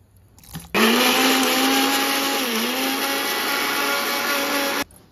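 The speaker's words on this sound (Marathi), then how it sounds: "मिक्सरला लावून घेऊया." A kitchen mixer grinder blends ingredients, starting abruptly into a loud, steady motor whine that holds for about four seconds, dips briefly in pitch, then cuts off sharply.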